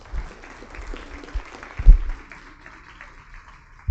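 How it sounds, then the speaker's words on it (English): Applause from a lunchtime history talk audience in a room honoring an author, moderate and somewhat sparse, with a few louder claps standing out near the end. "let's give Justin another round of applause"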